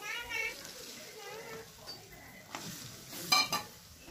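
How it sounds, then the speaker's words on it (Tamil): Four eggs dropped into hot masala in a pan for egg parotta, giving a soft sizzle with spoon stirring and a few sharp utensil clinks near the end, close by under a quiet background. "ஒரு நாலு முட்டை வந்து ஆட் பண்ணிக்கலாம்"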